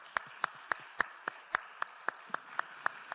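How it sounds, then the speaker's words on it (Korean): Steady rhythmic clapping in a church congregation during a Sunday morning service, about a dozen crisp, evenly spaced claps roughly three or four per second, fairly close, with no talk over them. "남편들은 아내들에게 박수 한번 쳐주십시다"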